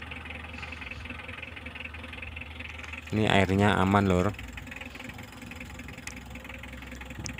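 A 2015 Mitsubishi L300 diesel engine idles with a steady, even clatter throughout, while someone briefly speaks over it in the middle.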